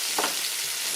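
Onions sizzle as they fry in a hot pan for a beef stew, a steady close, loud hiss with a brief stir near the start and no talking.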